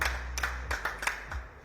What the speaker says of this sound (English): He gets a round of applause as well.